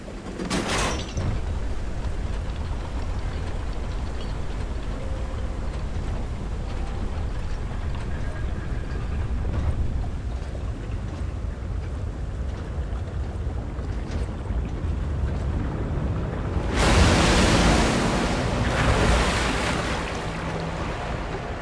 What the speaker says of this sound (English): Seems we can use it to call a submarine.